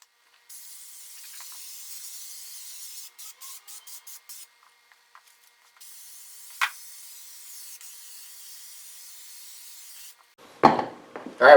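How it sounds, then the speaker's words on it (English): Spray adhesive hissing from an aerosol can onto foam padding for a Triumph Spitfire Mk2/3 seat back, heard as long steady close sprays broken by short rapid bursts, with some handling noise and rustling at the end. "Go ahead and get some spray adhesive on both sides of all this stuff and get that thing sprayed in."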